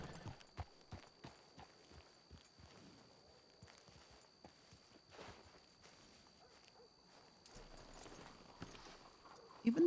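Horse hooves clip-clop in a steady walking rhythm in a ranch roleplay video game, the beat later loosening into scattered steps, with faint talk underneath.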